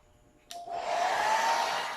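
Hair dryer switched on and blowing on its cool shot setting, with a click followed by a rising, steady airy whoosh and a faint motor whine, close and continuous.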